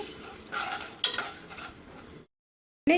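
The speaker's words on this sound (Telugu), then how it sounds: "ఇది వచ్చి గోల్డెన్ కలర్ వచ్చేదాకా మనం ఇలా ఫ్రై చేసుకోవాలి" Urad dal and cumin seeds frying in a pan for a coriander chutney tempering, a soft sizzle with scraping stir strokes for about two seconds, then a pause and a brief clatter of utensil on pan.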